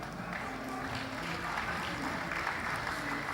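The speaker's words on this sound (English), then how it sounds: "Please give him a round of applause." Audience applause at a film festival grand finale, greeting a lifetime achievement award recipient called to the stage; steady, dense clapping fills the room throughout, with faint crowd voices mixed in.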